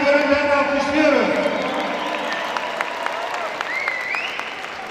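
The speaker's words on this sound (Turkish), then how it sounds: "Öğrencilerimizi canı gönülden alkışlıyoruz." Applause for graduating students at a 2019 university graduation ceremony in Van, a broad crowd clapping steadily throughout, with a voice speaking over it at the start before the clapping carries on alone.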